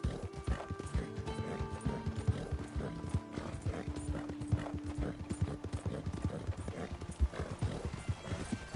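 A horse gallops in Red Dead Redemption 2, its rapid, steady hoofbeats pounding close and clear over a soft background tone, with a brief whinny mixed in.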